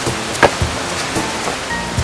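Rain beginning to fall outdoors, a steady hiss of drops with a few sharper patters and knocks, fairly close and continuous, with no one talking.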